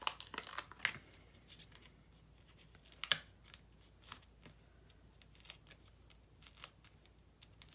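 Paper craft pieces for a Stampin' Up Painted Poppies thank-you card being handled, giving scattered crisp rustles, snips and crinkles in short bursts over near-silence, with no talking.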